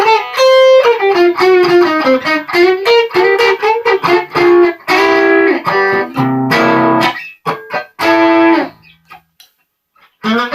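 A 1968 Telecaster with a vintage neck pickup in the middle position, treble and volume fully up, plays a loud, clean-toned phrase of ringing single notes and chords with short pauses and a few quick stabs near the end.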